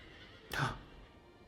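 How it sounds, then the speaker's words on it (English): A horse in a video game lets out a single loud whinny lasting about a third of a second, rising out of a quiet ambient background. "Our horse."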